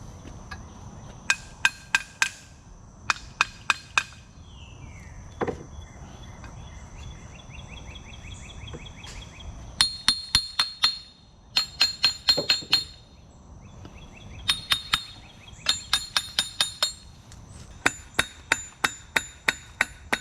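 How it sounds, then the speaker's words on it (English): A metal hammer strikes a winch part during reassembly in quick bursts of three to six sharp ringing blows, close and loud, separated by short pauses, over a faint steady background. "Have to get my hammer."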